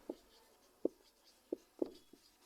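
Pen on paper while writing out a Class 10 maths solution on linear equations, a few quiet, close strokes and taps spaced irregularly over a faint background hiss, with no speech.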